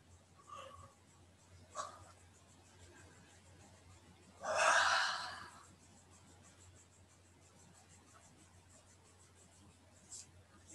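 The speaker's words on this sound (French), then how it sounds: "Baillez." A single drawn-out yawn during a French self-massage routine for the face, a breathy exhale of about one and a half seconds, close and fairly quiet, with faint breaths before and after and no talking.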